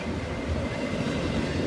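A Norfolk Southern freight train hauled by SD70ACU and SD70ACC locomotives rolls past at restricted speed, a dense steady rumble of wheels and cars with faint clatter, close and continuous.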